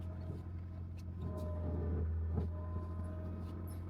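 A BMW E36 engine idling with a low steady hum and a mild rise in revs, heard close up in a workshop setting, with a few light clicks and no one speaking.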